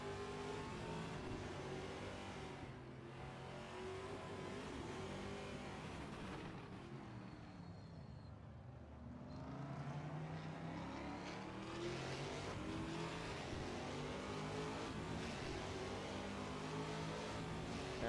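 Onboard engine of a TA2 series race car at Adelaide roars steadily through the opening lap, a loud continuous drone rising and falling with revs, briefly easing before climbing back to full throttle.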